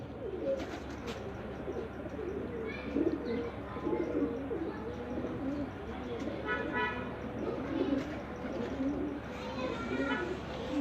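Pigeons coo in repeated low, throaty phrases throughout a loft in Faisalabad, while someone talks over them, with occasional brighter chirps mixed into the cooing.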